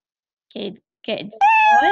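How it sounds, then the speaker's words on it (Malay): A cartoonish cat meow sound effect from a coding app plays near the end, clear and tonal, after a few short spoken words from a woman. "Lepas tu bunyi miau kan?"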